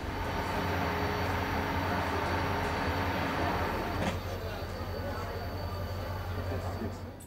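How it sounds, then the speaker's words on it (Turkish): A passenger train, the tourist Thousand and One Nights train, rolls steadily along a railway crossing into northwestern Iran near the city of Khoy, a continuous close rumble with a faint squeal or two throughout. "Anadolu'ya veda eden masal treni İran sınırlarına girişini ülkenin kuzeybatısındaki"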